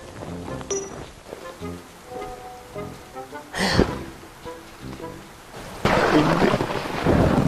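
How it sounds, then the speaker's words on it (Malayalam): Rain falls steadily through a night scene as a loud thunderclap bursts out midway, followed by a heavier rush of rainfall toward the end. "മഴ"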